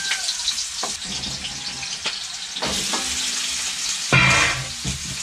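Potatoes frying in hot oil until lightly golden, a steady close sizzle with occasional louder crackles and stirring clinks.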